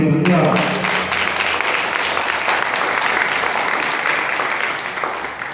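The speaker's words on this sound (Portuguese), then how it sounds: "Vamos dar um aplauso ao Senhor Jesus pela vida dela" A church congregation at a Sunday worship service bursts into applause, a full, even roar of clapping that holds steady for several seconds, with a voice briefly heard at the start.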